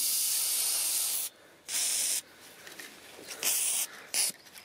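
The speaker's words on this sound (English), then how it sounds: "So yeah, I'll just go around and start spraying now." Oil is sprayed onto the steel door bolts of a horsebox in several close, hissing aerosol bursts: a long one, then three shorter ones separated by quiet gaps.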